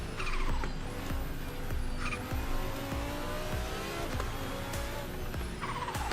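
Porsche 992 racing in the Assetto Corsa Evo video game, with its engine revving hard through rising pitch sweeps, repeated gear shifts and tire squeal, steady and loud with no voices.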